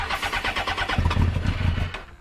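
A motorbike engine cranks and catches, a rough, uneven mechanical rumble with rapid pulsing, loud and close, while a bike that was in fifth gear and reluctant to start is being coaxed into running.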